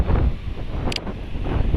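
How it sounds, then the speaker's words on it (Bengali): Gusting wind rushing across an open village ahead of a coming storm, a steady broadband roar buffeting close to the microphone with no voices. "বাতাস ছাড়ছে"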